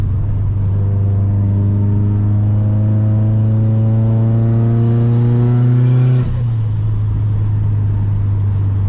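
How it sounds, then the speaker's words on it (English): A Subaru WRX STI engine with turbo, headers and catless exhaust holds a loud, steady rev that climbs in pitch, then drops abruptly back to a rumbling idle, close and raw. "I love the noises this car makes."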